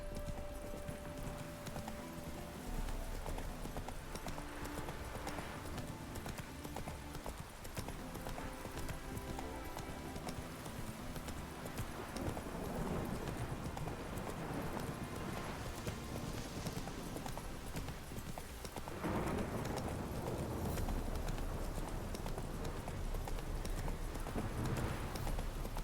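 Horse hooves clip-clop steadily in the video game The Witcher 3, a continuous rhythmic trot heard over rainy background ambience, moderately close and fairly even throughout.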